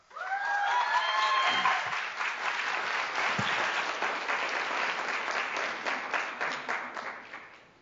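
Sustained audience applause fills the room for a competitor at a 2023 Three Minute Thesis contest, a dense steady clapping from a crowd that holds loud and even for about eight seconds, with a few cheers early on.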